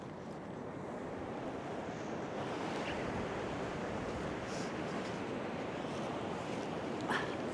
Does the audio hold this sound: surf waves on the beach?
yes